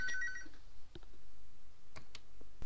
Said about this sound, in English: There we go, my phone's ringing now.